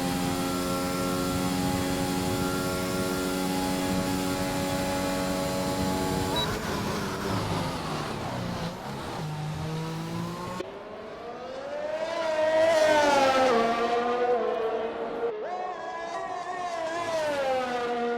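A Mercedes race car in a racing video game sounds as a steady, loud engine drone with rising and falling pitch as it shifts through gears into the final corner, under continuous commentary.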